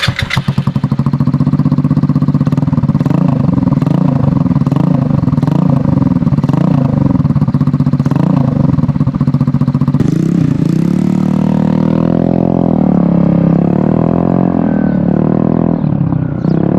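Honda Ruckus scooter with a swapped GY6 engine running without its exhaust silencer: a loud, raw, popping idle that stays steady, then rises and falls through a few throttle blips toward the end.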